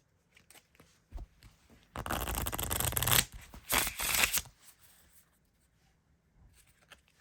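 Two bursts of a deck of reflection cards being shuffled by hand, close and crisp riffling, the first about a second long and the second shorter, with quiet pauses and faint handling sounds around them.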